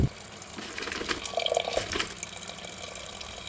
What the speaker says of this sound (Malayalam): ഇനി ഇതിലേക്ക് കപ്പ വേവാൻ ആവശ്യമായ വെള്ളം ഒഴിച്ചു കൊടുക്കാം